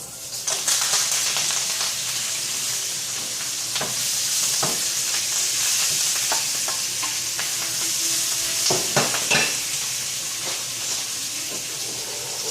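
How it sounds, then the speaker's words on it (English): Bok choy and shrimp fry in a hot pan with a steady loud sizzle, and repeated scraping stir strokes and clatters break through it throughout. "So I'm going to add the bok choy."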